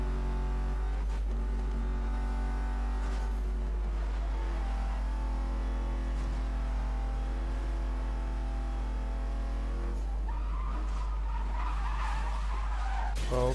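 Porsche Panamera Turbo S in the racing game Need for Speed Most Wanted 2012, a steady synthetic engine drone with shifting harmonic tones and a brief tire skid under braking, then a harsher, rising rev as it speeds up again.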